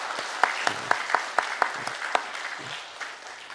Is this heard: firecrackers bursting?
no